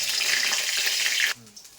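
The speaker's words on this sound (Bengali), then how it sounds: "এবার এই তেলের মধ্যে কটা পাঁচফোড়ন আর একটা শুকনো লঙ্কা দিয়ে দিলাম" Panch phoron and a dried red chilli drop into hot mustard oil, giving a loud, close hiss of sizzling that cuts off abruptly after a second and a half, leaving only faint crackles.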